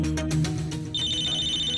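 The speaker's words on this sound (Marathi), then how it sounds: "कोणाचा फोन आला?" A telephone ringing in a crime drama scene, first a few pulsed ringtone bursts, then a sustained high electronic tone holding steadily to the end, fairly loud and with no talk over it.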